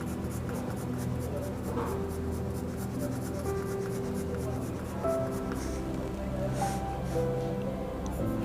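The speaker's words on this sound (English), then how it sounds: "Now take a 6B Staedtler pencil, this one, and then" Soft, steady scratching of a 6B Staedtler graphite pencil drawing a simple geometric design on paper, a continuous faint rubbing texture under a low background hum, with no speech over it.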